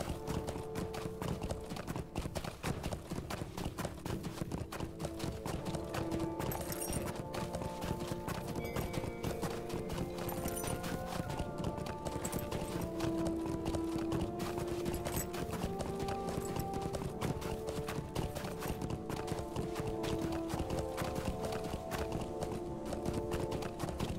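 Horse hooves clip-clopping steadily while riding in the Lord of the Rings Online video game, a continuous trotting rhythm over a dense layer of game music and ambience, with an occasional whinny.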